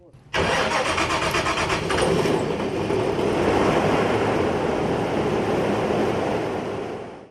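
A rescue boat engine cranks and catches abruptly, then runs in a loud steady roar before fading at the end.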